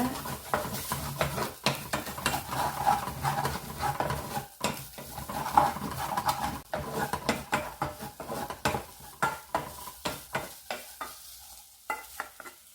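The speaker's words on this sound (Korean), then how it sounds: "냄비 편안에 재료들이 달라붙어서 타지 않도록 주걱으로 빨리 저어주시면서 익혀주시는 게 좋습니다" A spatula scrapes and stirs rice rapidly against the bottom of a pot, with steady rhythmic scratching strokes over a soft sizzle.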